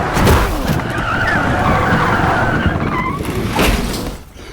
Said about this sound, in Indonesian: Dalam perjalanan pulang ke kota, mereka terlibat dalam tabrakan dengan mobil lain.